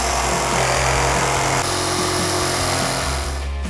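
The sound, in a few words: saw cutting wood template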